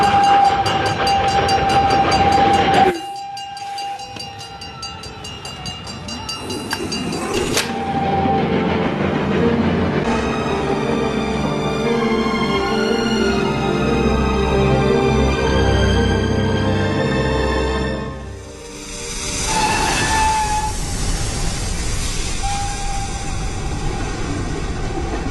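A train passes along a railway, a loud continuous rolling rumble with rhythmic clatter and a brief whistle-like tone, the sound swelling and shifting as the cars go by, with no talking.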